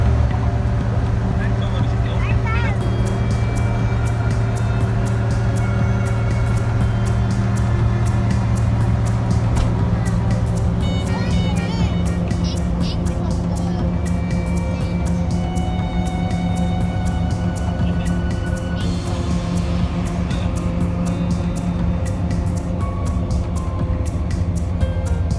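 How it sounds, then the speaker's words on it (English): A family RV drives on a road past the harbour of Hamburg in northern Germany, with a steady low engine and road drone throughout. Someone speaks over it. "We drove past the vast harbours of Hamburg, to the north of Germany"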